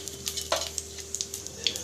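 Oil heating in a pan for masala Maggi gives off a faint, brief crackle and spitting sizzle, with a few scattered pops over a low steady hum and no voices.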